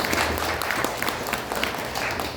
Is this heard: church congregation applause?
yes